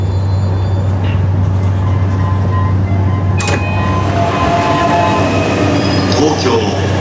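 Steady low rumble of a moving Yamanote Line commuter train heading into Tokyo Station, heard from inside a lightly filled car, with a brief sharper noise midway and faint murmuring voices.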